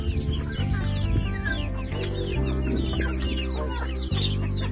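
A flock of chickens, including roosters, clucks and squawks densely and continuously at close range, many overlapping calls filling the air.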